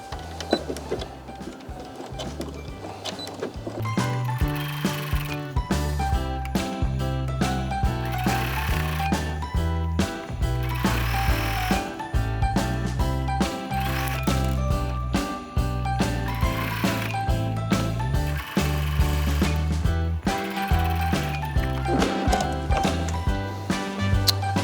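A sewing machine stitches the seam of a Christmas stocking, running in long continuous bursts with a rapid mechanical whir and ticking. It is close and loud throughout, with brief changes in pace and no speech.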